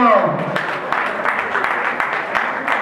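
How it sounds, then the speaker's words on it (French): Applause at the Kingabwa awards ceremony, scattered clapping with distinct irregular claps over a murmuring crowd as a voice rings out at the start. "Sous vos applaudissements."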